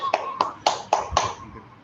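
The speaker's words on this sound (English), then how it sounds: "Can we all, can all of us clap for Raj Singh?" Five or six separate claps at an online class, close and sharp, spaced evenly about a quarter second apart before trailing off.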